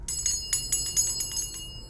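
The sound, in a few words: small bell rung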